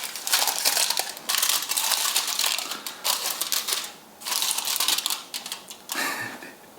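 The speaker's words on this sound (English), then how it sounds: "I'm gonna cover the top with some foil paper." Aluminium foil crinkles and crackles in repeated bursts, close and fairly loud, as it is handled and pressed over ramekins filled with flan custard in a home kitchen; no talking.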